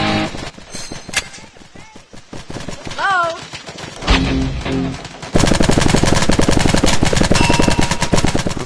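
Paintball guns fire in the Xbox 360 game Greg Hastings Paintball 2, with scattered pops and then a sustained rapid volley, mixed with game effects.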